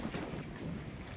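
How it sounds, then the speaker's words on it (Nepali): A windstorm blows hard, a faint, rough rumbling gust buffeting the microphone with steady roar and no voices. "हाम्रोतिरको हावाहुरी चल्न थाल्यो"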